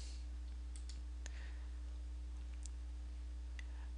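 A few sparse, sharp computer mouse clicks sound close and quiet over a steady low electrical hum.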